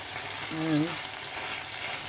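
Pepper sauce frying in a pan, with ugba already added, gives a continuous sizzle; a brief tonal scrape from stirring rises in the middle.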